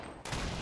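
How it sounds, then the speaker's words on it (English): Grenades fired in Fortnite, a 20v20 battle royale video game, burst as a loud, dense blast right after a brief lull, filling the rest of the moment with a sustained rumbling crackle of gunfire and explosions. "they're shooting grenades"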